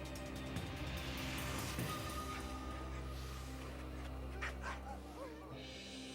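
Greenland sled dogs yip, whimper and bark faintly at a distance, the scattered calls sitting over a low, steady hum and background music.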